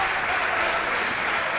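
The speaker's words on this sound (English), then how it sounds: "And the crowd chant for Pac." A wrestling crowd roars and cheers for Pac, a dense steady wash of many voices and applause filling the arena.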